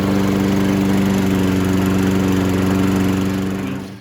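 A Toro lawn mower engine runs at a steady, loud chugging drone close by, then cuts out at the end; no one speaks.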